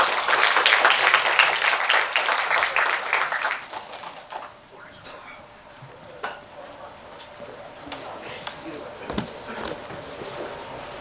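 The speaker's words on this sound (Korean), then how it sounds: "대한 보디빌딩 협회 권지관 회장님을 큰 박수로 여러분 모시겠습니다" Audience at a bodybuilding contest gives a burst of applause for the national bodybuilding association president, dense clapping for a few seconds that fades into scattered claps and room noise.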